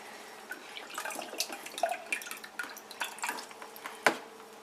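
Water drips and trickles from a drinking-water filter housing loosened under a kitchen sink, a series of small close splashes and patters building to one louder drop near the end, with no talk.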